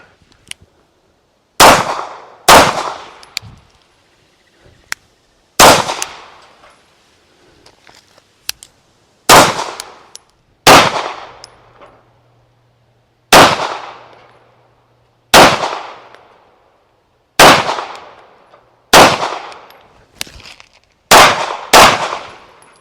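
Shots from a Wilson Combat SFT9 9mm pistol ring out about a dozen times outdoors. The sharp, loud cracks come singly or in quick pairs with uneven gaps, and each one decays into a short echo.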